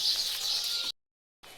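Birds chirp in a bright, steady morning chorus in a village, cut off by a sudden moment of silence before resuming briefly.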